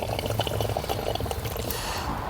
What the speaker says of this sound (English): Once you take the hose off, it allows the hose bib to drain down.